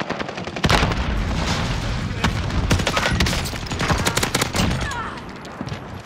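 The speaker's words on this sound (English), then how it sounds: "Tossing frag!" A frag grenade goes off amid heavy video game combat, a loud booming blast followed by sustained crackling gunfire and rapid shots filling the scene, with dense battle noise throughout.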